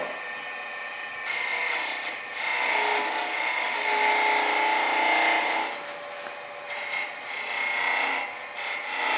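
A spindle gouge cutting a small Christmas ornament on a wood lathe, a raspy whirring scrape that swells and fades across several passes, close and steady, with no talking.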